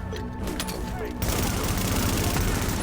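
Deployed turret in The Division video game firing on enemies, a dense sustained burst of rapid gunfire that grows louder partway through, with game sounds layered underneath.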